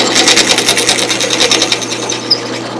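Drilling into wood with a 12 millimeter bit for a pizza cutter handle, a steady close rasping, grinding bite with rapid pulsing texture, no talk.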